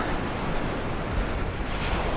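Ocean waves break on the shore at Capbreton in a steady, loud surf roar, with wind buffeting the microphone throughout and no voices.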